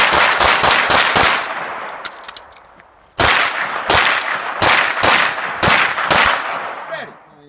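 Rapid pistol shots ring out at a USPSA shooting match, a fast burst of five or six sharp reports followed after a short pause by another string of loud, evenly spaced cracks, close and dominant.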